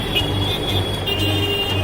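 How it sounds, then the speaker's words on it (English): A truck passes on a crowded street, its engine rumble a steady drone beneath a sustained high horn tone, with no voices. "A truck passing by, you can hear all the horns."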